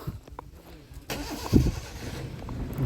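A vehicle engine passing along a mountain road on the Narmada parikrama pilgrimage route, rumbling up close and fairly loud, with a brief surge in the middle before settling into a steady drone.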